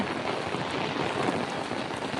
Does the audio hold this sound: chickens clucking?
no